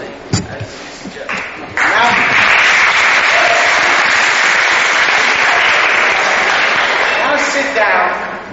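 Audience clapping at a camp gathering swells into loud, sustained applause after a short burst of voices at the start and holds evenly to the end.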